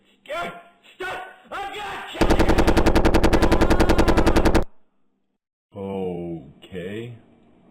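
Rapid cartoon machine-gun fire from a Kirby animation rattles loud and continuous for about two seconds, bracketed by shouting voices before and after the burst.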